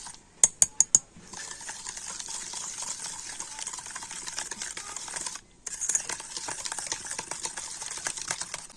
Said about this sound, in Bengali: আর এবারে আমি টক দই, গুঁড়ো চিনি আর বাটারটা একটু ভালো করে ফেটিয়ে নেব।